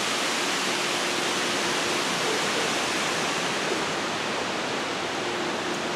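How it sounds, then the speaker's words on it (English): Strong wind blows outdoors as a dense, steady roar of broadband noise that continues unbroken and loud, with no voices over it. "Like, this is a lot of wind."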